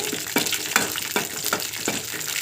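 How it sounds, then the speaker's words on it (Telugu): Cashews and raisins fry in a little fat over a low flame for sago payasam, a close steady sizzle broken by rhythmic scraping strokes of a stirring spoon. "ఇది జీడిపప్పు ద్రాక్షని బాగా ఎర్రగా వేగనివ్వాలి"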